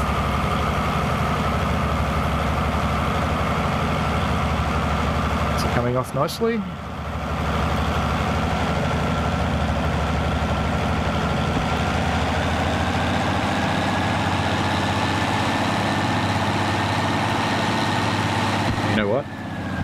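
A diesel locomotive engine in the Derail Valley train simulator throttles up for a hill start, a steady low heavy rumble running throughout, with a brief clunk midway and a person talking over it.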